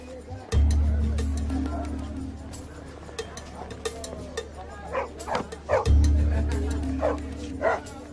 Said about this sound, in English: Village dogs.